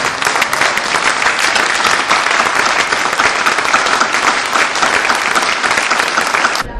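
A large crowd gives loud, sustained applause for the inductees at a hall of fame ceremony. Dense, energetic clapping runs steadily for several seconds before cutting off abruptly.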